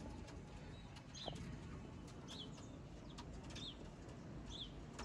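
Sialkoti pigeons calling in short repeated bursts over a steady, noisy background hum, the calls fairly faint and spaced a second or so apart, with no talking.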